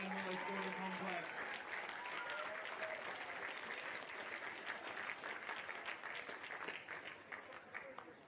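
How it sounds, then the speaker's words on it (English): Crowd applause at Glenmore Sporting Complex after an under-14 boys' football grand final at association championships: scattered outdoor clapping from a grandstand, fairly faint and distant, with some voices and cheering mixed in. "Can we please have a huge round of applause for that exciting grand final here at Glenmore Sporting Complex?"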